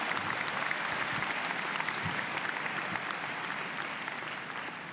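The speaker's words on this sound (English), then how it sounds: "You can clap." Steady applause from a convocation audience at a university graduation ceremony, dense and even throughout with no talk over it, fading slightly toward the end.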